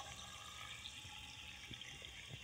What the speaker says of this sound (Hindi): अब पानी नहीं रुक रहा है,